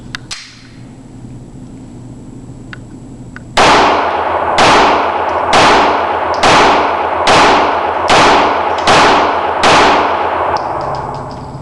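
Eight sharp, loud pistol shots from a 918 fire in an evenly spaced rhythm roughly one per second, each with a short ringing decay, following quiet background noise.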